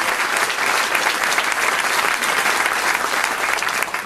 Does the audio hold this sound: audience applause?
yes